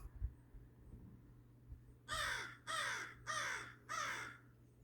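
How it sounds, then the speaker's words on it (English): A crow flies past outdoors and gives four loud, evenly spaced caws after a quiet start. "That's a local crow going by, laughing at us."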